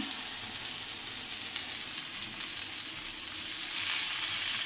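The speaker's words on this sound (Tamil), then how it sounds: "அந்த கிரேவியை எடுத்து இவங்க மேலே அப்படியே கொட்டிடலாம்" Hot gravy poured over tofu and capsicum in a pan, setting off a steady close sizzle with faint stirring scrapes that builds slightly toward the end, with no one speaking.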